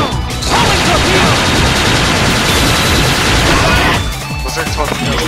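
Homing torpedo weapon fire in Mega Man Maverick Hunter X, a dense roaring barrage of blasts and crashes lasting several seconds before cutting off, loud and close.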